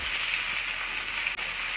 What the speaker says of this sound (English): It's still frying, and it gives a good crisp on there.